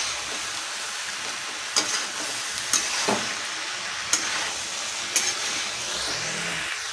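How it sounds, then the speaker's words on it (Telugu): Spices and mixed vegetables frying in a pan for curry, a steady close sizzle broken by four sharp scraping stirs of a spoon against the pan at roughly one-second intervals. "ఇప్పుడు ఏటైతే వేసుకున్నామో కలుపుకుందాం మనం"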